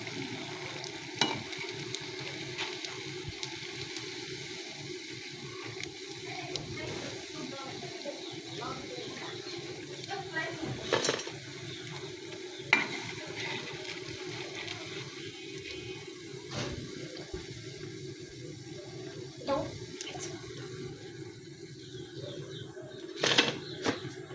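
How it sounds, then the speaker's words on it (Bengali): Potato pakoras frying in hot oil, a steady soft sizzle with occasional small pops and stirring clicks, fairly quiet and continuous while a person speaks intermittently. "আমি তৃতীয়বারের মতো আবারও দিয়ে দিচ্ছি ভাজার জন্য"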